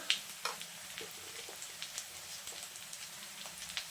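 Potatoes sauté quietly in a pan with chili powder, giving a soft, faint sizzle dotted with small crackles and pops, with no talking.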